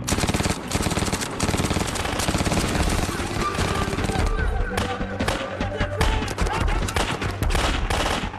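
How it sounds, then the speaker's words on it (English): A SAW squad automatic weapon lays down suppressive fire in long, loud, close bursts of rapid shots that barely pause. "put down suppressive fire. The SAW's job is to keep the enemy pinned down"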